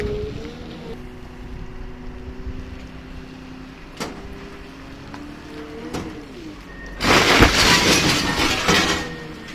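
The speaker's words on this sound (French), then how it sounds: "ce que ça fait de casser du verre" Glass being smashed, with a sudden loud, bright crash and shattering spray of fragments near the end, after a stretch of steady low mechanical rumble and a couple of faint clinks.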